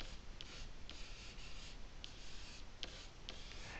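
Writing on a board, heard as faint repeated pen or marker strokes with small ticks roughly every half second over a steady background hiss, close but quiet, with no talking.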